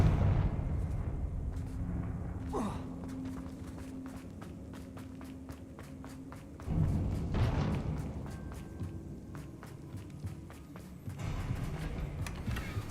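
Fiery Confringo spell blasts in Hogwarts Legacy on Xbox Series X arrive as several soft booming impacts with crackling bursts, mixed with game footsteps and ambience at moderate level.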